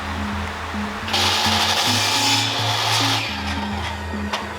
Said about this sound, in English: Alright, we're starting to drill.